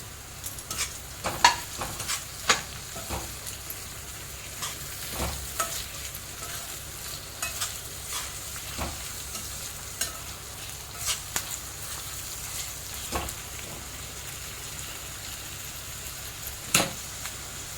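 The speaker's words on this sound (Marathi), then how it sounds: "हे बघा चांगलं परतून झालेलं आहे आता त्याच्यामध्ये आपल्याला एक टोमॅटो टाकायचा आहे" Ridge gourd thecha sautéing with tomato in a village-style pan, a steady low sizzle broken by sharp scraping stirs of the spatula every second or two, close and fairly quiet, no voices.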